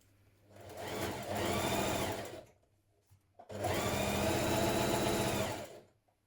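A domestic sewing machine stitches a 1.5 cm seam on a pair of cozy trousers in two steady, close bursts of rapid motor whirring and needle clatter, separated by a short pause.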